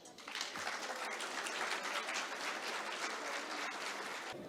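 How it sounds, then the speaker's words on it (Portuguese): A crowd applauds steadily for several seconds at the opening of a conference day, a dense wash of many hands clapping at an even level. "que recebemos com uma salva de palmas"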